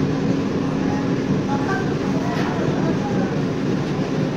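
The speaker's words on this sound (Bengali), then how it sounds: "আমাদের ট্রেনটা এখন কল্যাণী স্টেশন" An AC local train rumbles and clatters steadily as it pulls into Kalyani station, with a low continuous roar and some faint squeals, heard from inside the carriage.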